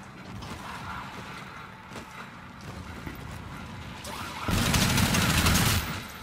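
In the Spacelands game, the Shredder weapon fires a rapid, rattling burst of gunfire with mechanical clatter, growing loudest for about a second near the end over steady background game noise.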